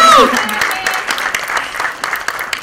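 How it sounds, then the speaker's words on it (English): Audience applause fills the hall at a film music launch, a dense wash of clapping that stays steady for a few seconds with scattered sharper claps and some voices cheering over it. "can we have a round of applause for him?"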